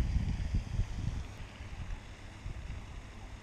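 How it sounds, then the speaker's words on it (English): Wind gusts outdoors on the water during a catfishing trip, a steady low rumble with some buffeting against the microphone, moderately loud and alone with no voices. "Dang, it's windy out here, man."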